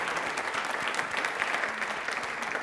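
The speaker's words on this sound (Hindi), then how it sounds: "एक बार तालियां हो जाएं डॉक्टर आसिफा राशिद खान जी के लिए" A studio audience on a Rajasthan television quiz programme gives warm, even applause for a guest doctor, a brief dense patter of clapping at moderate volume.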